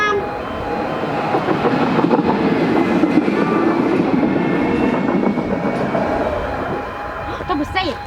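A tram rumbles past close by with a steady rolling roar and faint rail clatter, fading slightly toward the end.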